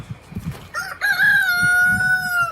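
A rooster crows loudly and close, one long drawn-out call, preceded by a few low clucks from chickens.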